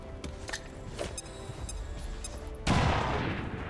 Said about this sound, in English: we'll have Dirty Harry throw the grenade